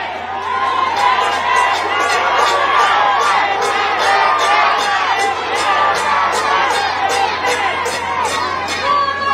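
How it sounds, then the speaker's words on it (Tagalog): A large crowd at a political rally in Manila shouts and cheers for Duterte, a loud, sustained roar of many voices with rhythmic chanting pulses running throughout. "Ang sigaw ng mga tao ay Duterte"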